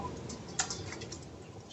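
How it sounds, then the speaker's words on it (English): Fingers type briefly on a computer keyboard during a software demonstration, giving a quick run of soft, close clicks with one slightly sharper tap. "I can see as soon as I start typing"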